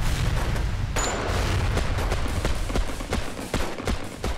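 Battlefield din of World War I machine gun fire and shrapnel shell bursts, dense and continuous with repeated sharp cracks and booms over a heavy low rumble.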